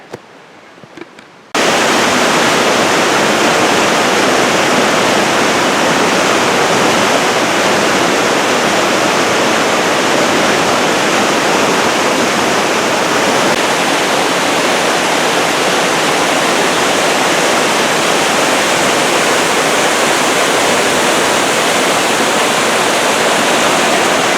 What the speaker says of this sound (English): You just saw Spray Falls up there and Spray Creek, the smaller one